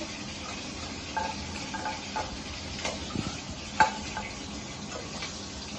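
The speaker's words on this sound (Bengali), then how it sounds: "বড়ি ভেজে নিচ্ছি।" Bori lentil dumplings frying in a pan for a Bengali fish curry, a soft steady sizzle with occasional light taps and scrapes of a spatula, quiet and close.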